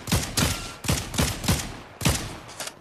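Gunfire in the video game Fortnite while shooting at a sniper: five sharp, loud shots in quick irregular succession, each with a short booming tail, and no voices.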